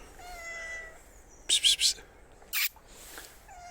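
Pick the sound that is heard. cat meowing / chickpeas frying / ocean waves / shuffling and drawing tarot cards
cat meowing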